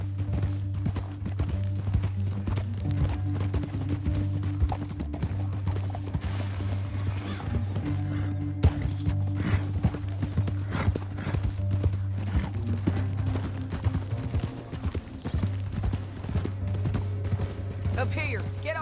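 Horses gallop in Red Dead Redemption 2, a steady run of hoofbeats over a low droning score, with voices talking over the ride throughout.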